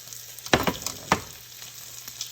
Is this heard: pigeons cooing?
no